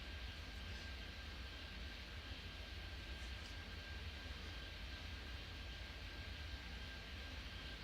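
An airplane comes in to land in the video game Airport Madness 3D, a faint, steady engine drone with a thin sustained whine, constant and distant-sounding, with no talk.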